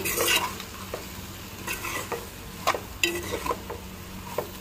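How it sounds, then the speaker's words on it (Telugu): Spatula scraping and stirring salt, chili powder and turmeric through oil in a pan for an okra and egg curry, a few distinct scrapes over a soft sizzle, close and fairly quiet. "సాల్ట్ కారం పసుపు మొత్తం కలిసేలా కలుపుకోవాలండి ఒకసారి గట్టితో"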